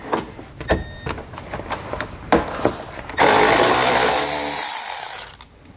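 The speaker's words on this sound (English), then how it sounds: "We're going to remove a 10 millimeter bolt right here." Power tool driving out a 10 mm bolt on a bracket of a 2017 Chevrolet Colorado, a few short clicks and taps followed by a loud sustained whirring burst that fades away, no talking.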